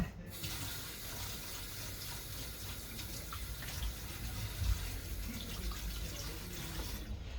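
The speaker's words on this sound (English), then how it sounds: "I'll wash my hands again." Steady running water from a kitchen tap as hands are washed beneath it, close and continuous with slight splashing variations throughout.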